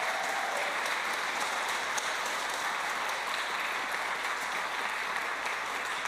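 Audience applause for a musician at a recital, a dense, steady wash of clapping that fills the room from start to finish without pause.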